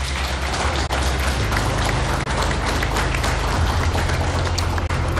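A live studio audience claps steadily for a few seconds at the close of a televised Kenyan political debate, a dense, continuous wash of applause with no voices on top.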